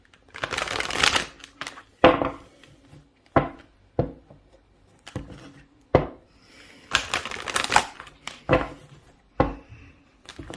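Cards are shuffled by hand in a quiet room, with repeated short riffling bursts and soft taps in an irregular rhythm, close and moderately loud.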